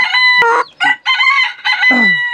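A rooster crows loudly and close by in a few harsh bursts, followed by a lower clucking call at the end.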